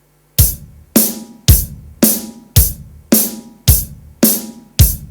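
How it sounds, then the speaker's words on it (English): Nine sharp, punchy hits on an electronic rhythm pad sound in a steady, fairly quick 2/4 beat, each one decaying quickly, loud and alone. "if you play this 2/4 beat a little more faster, it may sound like this"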